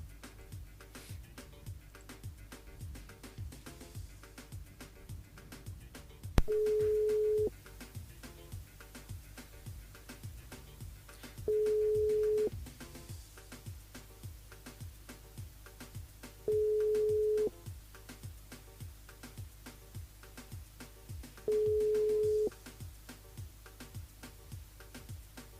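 A telephone call placed during a live radio phone-in goes unanswered, with four evenly spaced ringback tones sounding over steady low background hum and soft ticking.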